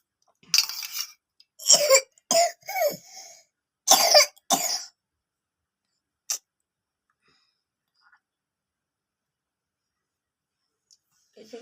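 A person coughs in several harsh, close bursts clustered near the start, then falls mostly silent apart from one short sound and faint traces near the end.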